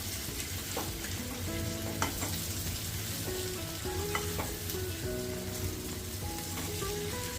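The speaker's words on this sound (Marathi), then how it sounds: "हिरव्या मसाल्यातली शेवग्याची शेंग छान परतून घ्यायचं आहे" Drumstick pods sizzling and being stirred in green masala in a pan, a steady close frying hiss with the scrape and clink of a spoon turning them every few seconds.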